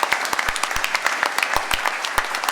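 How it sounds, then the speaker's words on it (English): A crowd at a Young Farmer of the Year awards night gives a round of applause, loud, continuous clapping with a few sharp, close individual claps standing out. "What about a round of applause for Ravensdown?"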